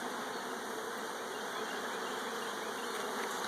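Honey bees buzzing densely around a swarm trap hive, a steady close drone of many wings with no talk.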